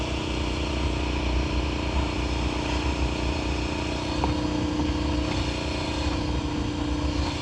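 A KTM 1290 Super Adventure motorcycle pulls hard on a road in South Hawai'i as the rider lifts the front wheel, with a steady loud engine drone and wind rush running throughout and a brief rise in revs near the middle.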